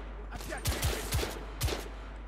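Automatic rifle fire in The Order: 1886 comes as a few quick bursts of four or five sharp shots, moderately close, over a low steady hum with faint background voices.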